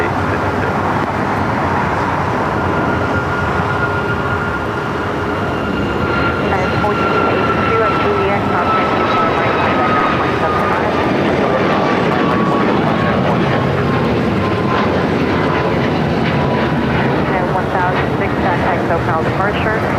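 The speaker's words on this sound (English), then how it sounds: "Another United flight, another 737 MAX 9 heading to Vegas, Flight 1006. Next takeoff." A United Boeing 737 MAX 9 jet takes off at LAX with a loud, sustained roar and a high whine that swells and holds throughout, while a voice talks over it.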